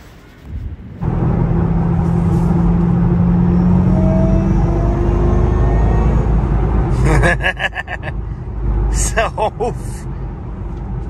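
A car's engine rumbles loudly and steadily at close range for about ten seconds, with brief rattling bursts toward the end as someone talks briefly over it.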